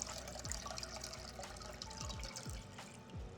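Water runs and splashes into a kitchen pot being filled for pasta, a steady continuous pour with small drips and clinks, fairly quiet and close.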